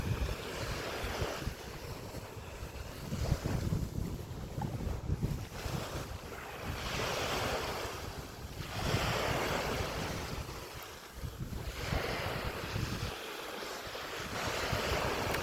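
Wind and waves on a Scottish beach, with steady, rushing surf rising and falling in slow swells under buffeting wind noise on the microphone. No one speaks.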